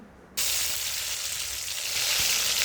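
Cumin seeds and chopped garlic dropped into hot oil in a pot burst into a loud, sudden sizzle that keeps hissing steadily and close up, with no voices.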